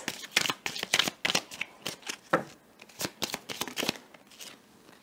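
Tarot cards are shuffled and flicked in quick, crisp bursts of riffling and snapping, close and clear with no talk over them.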